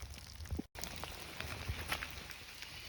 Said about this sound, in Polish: Deszcz czasem wzmaga, czasem troszeczkę ustaje